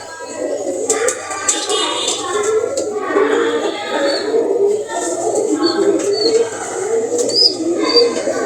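Pigeons in a loft coo again and again, soft rolling calls overlapping close by, with a few sharper chirps and faint background noise.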